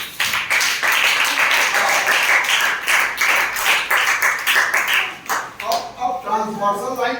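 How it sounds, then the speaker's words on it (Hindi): Students clapping together in a classroom during a geometry lesson on angles and transversal lines: a steady run of brisk claps for about five seconds, fading out as voices take over. "ताली बजा लो डियर के लिए।"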